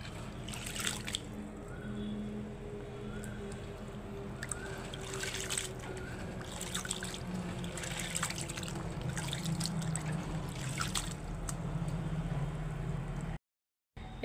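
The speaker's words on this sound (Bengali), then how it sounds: "পাতাগুলো আমি বড় গামলায় নিয়ে ভালো করে দুবার তিনবার করে ধুয়ে নিচ্ছি।" Malabar spinach leaves are swished and rinsed by hand in water in a large basin, giving soft sloshing and trickling with intermittent splashy bursts, ending in a brief cut to silence.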